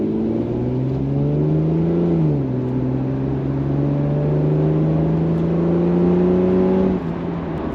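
Jaguar XJS 4.0 accelerating hard in Sport mode, the engine note climbing steadily from inside the cabin, dipping briefly at a gear change before rising again, loud and continuous with no talking.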